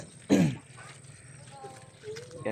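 A person with a rain-induced cough gives one short, sharp cough close by, followed by quiet background with faint scattered sounds.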